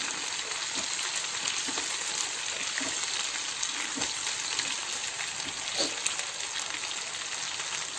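Pomfret fish fries on a tawa, giving a steady close sizzle and crackle of hot oil that stays even and unbroken throughout.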